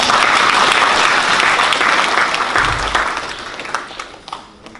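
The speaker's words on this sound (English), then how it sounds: "Please give a clap to the church." A church audience breaks into loud, close applause that is dense at first and then thins into scattered claps as it fades over a few seconds.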